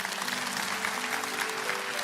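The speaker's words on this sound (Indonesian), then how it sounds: "kasih tepuk tangan untuk Tuhan" A church congregation at a Sunday service claps together in a dense, sustained burst of applause, steady and fairly loud throughout.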